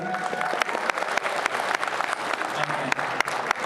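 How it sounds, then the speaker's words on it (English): Crowd applause at a Rhode Island comic con stage event, a round of clapping for a young child, steady and lively with sharp individual claps standing out. "Round of applause for him,"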